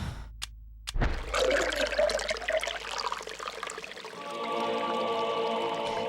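A heavy urn filling to the brim with rank, foul-smelling fluid from a fountain in the GameCube game Eternal Darkness: a brief click, then a sustained watery gurgling pour that settles into a steady tonal, droning rush, close and fairly loud.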